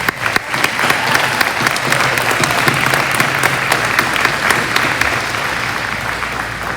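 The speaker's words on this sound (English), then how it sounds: "So a round of applause for Mr." An audience at a school athletic awards ceremony applauds an interim athletic director, the dense, loud clapping continuing steadily for several seconds without any speech.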